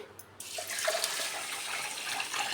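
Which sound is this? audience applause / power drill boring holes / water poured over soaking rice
water poured over soaking rice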